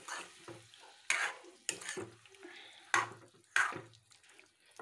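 Turmeric-coated chicken pieces stirred in a hot pan, several sharp scraping strokes with a soft sizzle running underneath, close and fairly quiet with no talking.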